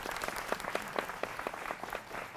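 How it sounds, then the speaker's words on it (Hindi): Brief burst of studio audience applause for a NEET student at a televised debate on paper leaks, a quick run of close, distinct claps at moderate loudness. "इनके लिए भी जोरदार तालियां"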